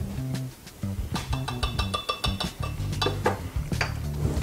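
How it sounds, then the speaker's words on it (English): A seasoning mix stirred in a bowl with a utensil, a close run of scraping and clinking taps in quick, uneven rhythm, with no speech. "Go ahead and give this a mix."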